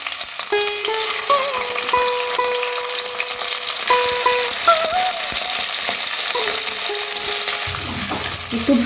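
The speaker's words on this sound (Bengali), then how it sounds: "এবার যে মাথাগুলো রেখেছিলাম ইলিশ মাছের, ওইগুলো ভেজে নেব।" Hilsa fish heads fry in hot oil in a kadai, giving a steady, close sizzle and crackle that runs throughout, with a few faint tonal whines and light clinks of a utensil toward the end.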